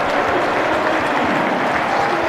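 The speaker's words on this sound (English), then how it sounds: "stands to let the South Stand applaud him" Football supporters in the South Stand at a Bristol City match applaud a lobbed goal, a dense, loud, steady wash of clapping from a large crowd with no pauses.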